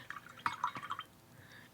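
Water dripping onto a watercolor paint swatch, a handful of faint, soft drips and small splashes spaced irregularly over a quiet background, with a brief sharper tap at the end.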